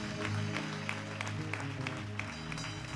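A church congregation claps along during praise worship at a fast-and-prayer gathering in Togo, steady rhythmic hand claps over music and sung voices, moderately loud and continuous throughout.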